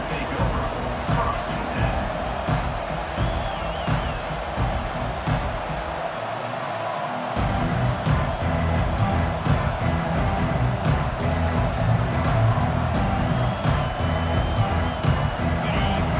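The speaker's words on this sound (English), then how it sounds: "This crowd bringing an ear-splitting welcome to their visitors." A stadium crowd at a Missouri versus Miami football game roars in a sustained, loud wash of noise, with a commentator's voice on top and a brief dip before the noise swells again.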